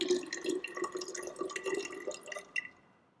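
Water poured into a measuring cylinder during a density experiment, with a soft trickling and dripping stream running for a few seconds before it tapers off near the end, close and fairly quiet.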